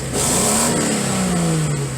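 Datsun 280ZX engine revving hard under throttle, a loud close rise in pitch that holds and slowly falls back, steady and continuous with no talking.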